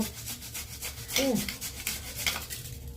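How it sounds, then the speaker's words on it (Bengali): A washed raw potato is rubbed against a grater to extract its juice, producing steady, close scraping strokes in a continuous rasping rhythm with no talk. "ধুয়ে নিয়ে এটা ঘষে এটার থেকে রসটা বের করে নেব।"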